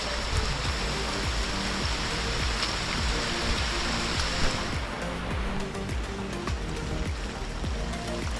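Heavy rain falling along a mountain hiking trail on Mt Romelo, a constant loud wash of drops that stays steady without pause and softens slightly in its upper hiss partway through.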